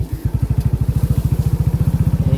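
Off-road motorcycle engine chugging at low revs while crossing a small bridge, a steady rapid pulsing thump, loud and close, alone without talk.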